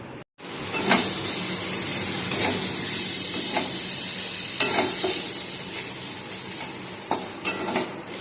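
Chicken filling for stuffed pointed gourd (potoler dorma) stir-fries in a pan until dry. A loud, continuous close sizzle and hiss runs throughout, with occasional scraping stirs breaking through.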